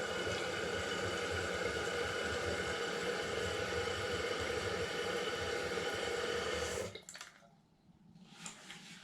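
Toilet tank refilling after a flush through a newly replaced fill valve: a steady hiss of rushing water that cuts off abruptly near the end, then leaves faint trickling.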